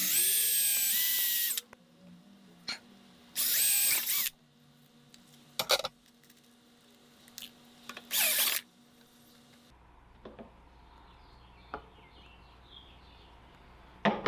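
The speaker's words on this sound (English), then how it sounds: "we're gonna take this step bit and we're gonna enlarge that hole to the size that we need" Power drill with a step bit enlarging a hole in a cap for an on-board shower system, short whining bursts of drilling separated by pauses, clicks and handling noises.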